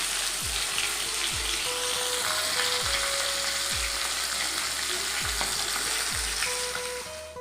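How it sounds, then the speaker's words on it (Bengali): Fish frying in a pan, a continuous moderate sizzle and crackle with occasional faint clinks, no talk over it. "এখানে মাছ ভাজা বসিয়ে দিয়েছি"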